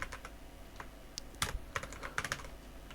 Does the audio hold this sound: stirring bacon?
no